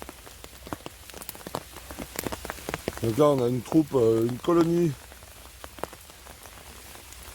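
Rain patters steadily on a forest floor during autumn mushroom hunting, with scattered close drips on leaves and surfaces; someone speaks briefly in the middle.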